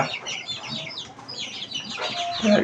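Young native (deshi) chicken chicks clucking and peeping together, busy overlapping chirps close by, with faint background noise and no talking.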